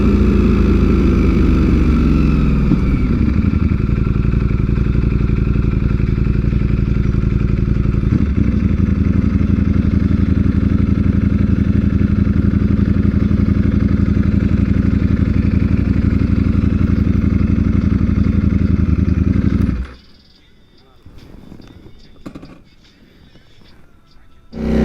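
A group of Ducati motorcycles, an 1199, two 899 Panigales, a Monster 600 and a Streetfighter V4S, rumbles loudly and steadily nearby for about twenty seconds, then cuts off abruptly, leaving quiet scuffs and faint noise.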